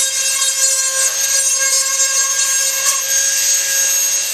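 A power tool whines at a high, steady pitch while grinding burrs off cut metal for a homemade pellet trap, a continuous buzzing tone with slight wavers as it bites into the edge.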